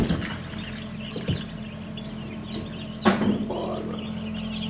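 Purebred German Australorp chickens with newly hatched chicks, heard as a few clucks and soft peeps over a steady low hum, with a louder burst of calling partway through, fairly close and with no speech.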